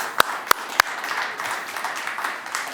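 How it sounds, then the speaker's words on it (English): Warm audience applause after a piano talk, a few sharp near claps standing out at the start over a soft, steady patter of clapping from a small crowd. "Warm applause!"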